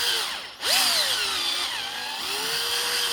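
A power drill whirs up and drives a screw into a bed frame, its motor pitch rising and holding under load for a few seconds, close and loud.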